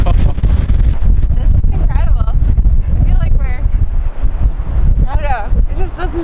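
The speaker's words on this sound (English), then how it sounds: "It's uber windy." Strong wind buffets the microphone in continuous low rumbling gusts on a clifftop near Halls Harbour and Cape Split in Nova Scotia, while voices talk over the roar.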